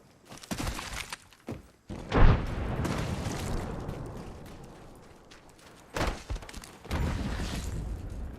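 A frag grenade explodes in the Apex Legends battle royale game, a loud broadband blast with a rumbling decay, followed by further sharp bursts of gunfire and impacts.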